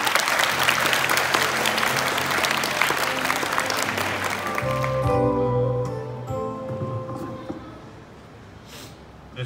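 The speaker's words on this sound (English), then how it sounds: "Huge round of applause." An audience at a school Diwali celebration applauds loudly for about five seconds, then the clapping thins and fades while a voice and some tonal sounds come through near the end.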